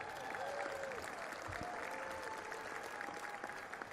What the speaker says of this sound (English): Now, please give Linda Bradley a round of applause.